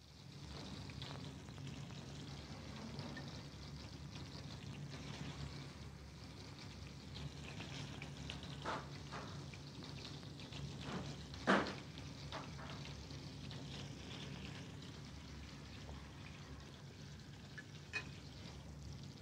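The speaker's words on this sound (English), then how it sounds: "They are carefully roasted in butter." Figs roasting in butter in a pan at the edge of a flat-top range in a restaurant kitchen. A soft, steady sizzle runs throughout, with a few faint clinks and one sharper knock of the pan.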